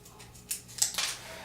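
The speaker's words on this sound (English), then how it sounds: "I take a pair of scissors and cut a flat edge." Scissors snip the leader of a roll of film, giving a few quick, faint crisp cuts in close succession within a short quiet moment.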